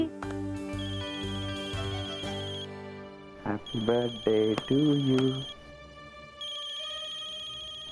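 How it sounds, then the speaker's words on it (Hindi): A telephone ringtone sounds during a birthday celebration, a repeated bright electronic melody that pauses while people sing, then resumes loud and clear. "अरे आप तो फोन उठा लो"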